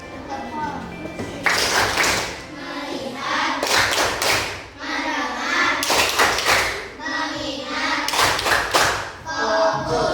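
Schoolchildren in a classroom perform the tepuk fokus clapping routine, chanting together between bursts of loud rhythmic claps and table thumps that come in repeated patterned groups.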